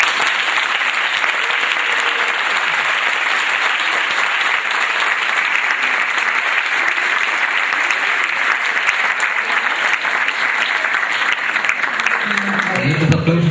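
Sustained, full applause fills a hall after a talk at a 2014 general medicine congress. The clapping is dense and steady for over thirteen seconds, and a voice begins to come in right at the end.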